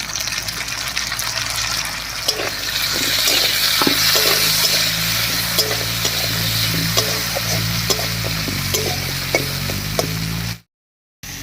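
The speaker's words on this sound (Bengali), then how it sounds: "ফোড়নের উপরে কাঁঠালি কুচি দিয়ে একটু নাড়িয়ে নিয়েছি" Chopped jackfruit seeds land in hot tempering in a pan and are stirred, giving a steady, loud sizzle with scattered scraping clicks from the stirring, then a sudden brief cut to silence near the end.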